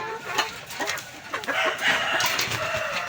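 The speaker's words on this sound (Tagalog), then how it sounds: "Mga alaga ko. Papakain tayo ng manok." Several backyard chickens cluck and squawk close by, with one crowing over the busy farmyard chatter.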